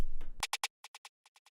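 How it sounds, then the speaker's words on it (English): A short burst of sound gives way to a quick run of bright, pitched snare hits in uneven groups, each crisp and short, with silence between them. "I basically tried doing the same thing with the snare, but with more notes."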